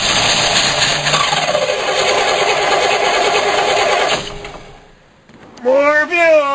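A Toro small engine cold-starts with the choke pulled, running loud and steady at high revs before cutting out, then sputtering back to life with uneven surges close by.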